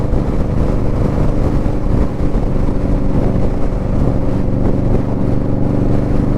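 An Indian Scout Bobber motorcycle rides through open countryside, its engine a steady loud low rumble with wind buffeting the microphone throughout, no voices.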